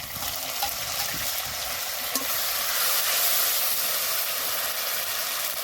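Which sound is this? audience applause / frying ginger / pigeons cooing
frying ginger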